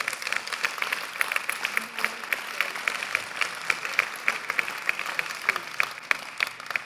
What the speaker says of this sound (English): while we're still in the clapping mode